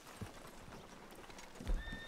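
In the Red Dead video game, a horse's hooves clip-clop at a moderate pace and a short whinny sounds near the end, all fairly quiet.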